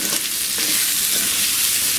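Rice stir-frying in oil for prawn and chicken fried rice, a loud continuous sizzle with a few soft stirring bumps, close and unbroken until it cuts off at the end.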